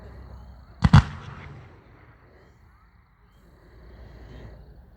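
A Charcoal Comet firework shot fires as one loud, sharp burst with a short crackling tail, then fades into quiet outdoor ambience.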